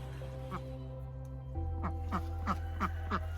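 Homestead ducks kept alongside goats quack in a short series of repeated calls, fairly close, over a steady low hum in the background.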